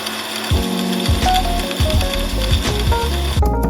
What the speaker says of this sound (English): You can do it like me with a KitchenAid